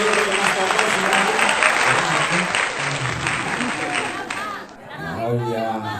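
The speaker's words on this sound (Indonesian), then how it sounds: "kasih tepuk tangan dulu dong buat Rasya" An audience claps loudly and steadily for Rasya at an event, sustained applause mixed with crowd chatter that fades out near the end as voices take over.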